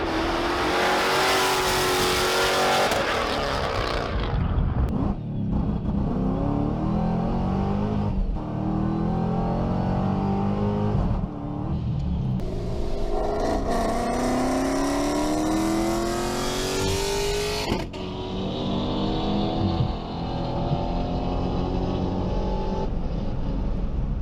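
A loud, raspy Dodge Challenger straight-pipe exhaust revving repeatedly, engine pitch climbing and falling in sharp bursts, close up and unmuffled.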